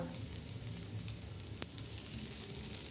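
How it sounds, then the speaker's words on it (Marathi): Sabudana vadas deep-fry in oil with a soft, continuous sizzle, broken by small crackles and pops at close range. "तर आता आपले वडे छान असे तळत आहे"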